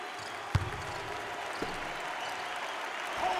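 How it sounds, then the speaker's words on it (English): Crowd cheering and applauding at a college basketball game in Houston's arena, a dense, steady roar punctuated by a couple of sharp thuds from the court. "Listen to the crowd."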